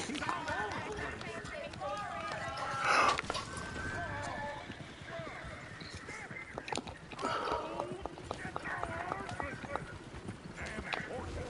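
Rapid hoofbeats clatter at a galloping pace, with a horse whinnying near the middle, under intermittent talk and background noise, in Red Dead Redemption 2 on PS5.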